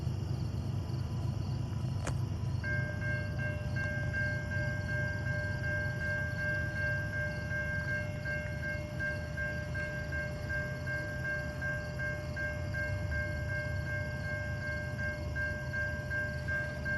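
A long freight train of 137 rail cars rolls past at Pine Orchard, a low steady rumble with faint tonal squeal, heard from a distance and fairly quiet throughout.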